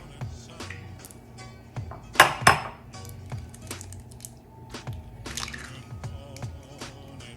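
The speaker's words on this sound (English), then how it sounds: "So I'm gonna take these 2 eggs and crack those open, get them in the bowl" Two eggs cracked against a bowl for homemade pancake batter, with a pair of sharp taps close together followed by light clinks of shell and utensils and soft dripping, heard near and fairly quiet.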